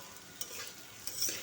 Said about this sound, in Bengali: আলু ভাজা বসিয়েছি, মুড়ি খাবো।